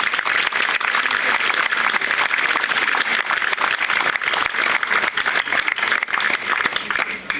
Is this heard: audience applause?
yes